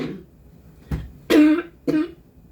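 Cough-like sounds from a person at home working on a personal Christmas quilt: a short throat clearing, then two harsh coughs, close and fairly loud, with no speech.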